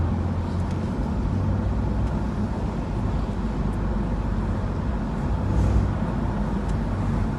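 A high-mileage BMW E46 M3 with SMG gearbox and 179,000 on the clock, running after a VANOS rebuild: a steady low engine drone heard from nearby, holding fairly even with a slight swell near the end.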